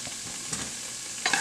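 Onions, celery and carrots sizzle in hot oil in a soup pot with a broad steady hiss, plus a few sharp stirring scrapes and a louder burst near the end as more vegetables drop in.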